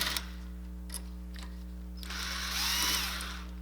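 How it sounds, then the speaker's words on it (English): An electric impact gun fitted with a 14 mm swivel socket spins off a loosened rear brake bolt on a 2007 Toyota Camry, giving a steady mechanical whir that builds toward the end over a constant low hum. "I'm going to go ahead and use my electric gun with the swivel 14 millimeter just to get in there, finish off the bolt"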